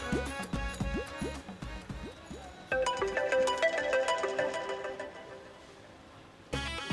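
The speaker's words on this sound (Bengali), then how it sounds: "রিং হচ্ছে" A mobile phone rings for an incoming call with a melodic electronic ringtone, repeated tonal phrases that change pattern partway, fall quiet briefly, then start again, heard clearly with no voices.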